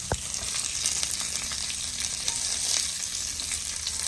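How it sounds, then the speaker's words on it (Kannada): Leaves hiss and sizzle steadily in hot oil close by, after one sharp clack at the start. "ಎಲೆ ಅಂತೂ ಬೇಗ ಬಾಡೋಗ್ಬಿಡುತ್ತೆ ಬಿಸಿ ಬಿಸಿ ಎಣ್ಣೆಯಲ್ಲಿ"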